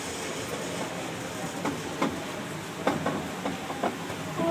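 A ride-on train at West Town Mall rolls along with a steady rumbling clatter and a few sharper clicks from the track. A voice and faint chatter sit in the background.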